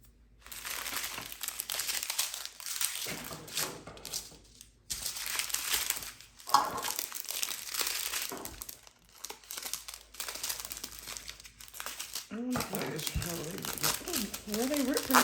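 Crinkly plastic packaging of a mushroom creatures kit being ripped open in a series of close crumpling and tearing bursts, with a person talking over it.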